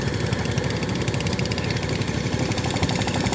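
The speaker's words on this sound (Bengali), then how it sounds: "এখানে পাওয়ার টিলার দিয়ে কাদা জমিতে মই দেওয়া হচ্ছে।" A 20 HP diesel, 18-blade power tiller pulls a harrow across muddy farmland. Its steady engine rumble and rapid mechanical pulsing carry at moderate loudness nearby, unbroken and without speech.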